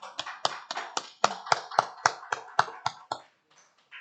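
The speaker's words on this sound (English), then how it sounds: "Please give a round of applause to our wonderful guest speaker this evening" A small audience claps for a guest speaker at a women-in-leadership evening event, steady distinct hand claps in a quick even rhythm that thin out and stop near the end.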